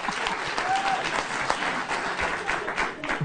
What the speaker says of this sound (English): They're applauding that.